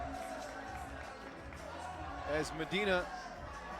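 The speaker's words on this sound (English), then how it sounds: "the crowd starting to feel it again as they cheer Kazakhstan" Crowd cheering for Kazakhstan at a FIBA 3x3 U18 World Championships basketball game, a steady arena roar that swells briefly near the end beneath a commentator's continuous talk.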